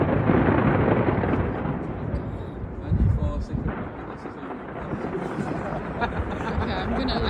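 New Year fireworks bursting at Taipei 101, a dense, continuous roll of booming bangs and rumbling reports, loud and close, with a heavier cluster of blasts midway.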